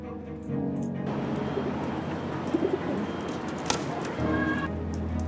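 Pigeons cooing in low, soft repeated calls with a steady background murmur, fairly close and continuous throughout.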